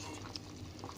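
Raisins simmering in bubbling jaggery syrup for sabudana payasam, a faint, soft, steady patter of small bubbles popping close by.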